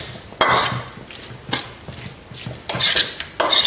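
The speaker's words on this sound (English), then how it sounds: "Give it a good mix." A salad tossed with olive oil in a bowl: several short bursts of utensil clatter and scraping against the dish, separated by quiet gaps, heard close up.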